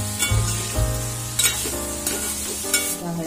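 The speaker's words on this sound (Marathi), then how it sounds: "गॅसवर पडवळ परतून घेऊया" Chopped pointed gourd (padwal) sautéing in a pan over a gas flame, a steady sizzle broken by several sharp scrapes and clinks of a spoon stirring against the pan.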